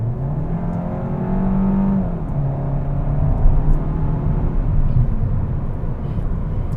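A 2021 Kia K5 sedan in sport mode accelerates with a steady engine drone and rising whir of road noise, heard from inside the cabin at moderate loudness, without talk.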